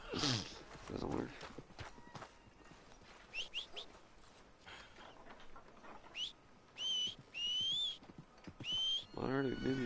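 Horse hooves clip-clopping and a whinny in the video game Red Dead Redemption 2, with clicks, bird-like whistles and chirps over the steps and a rising neigh near the end, while a player talks at moments.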